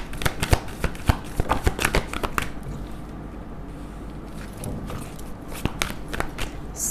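Tarot cards riffle and slap in quick, close bursts of shuffling for about three seconds, then a quieter stretch of light handling and a few soft taps.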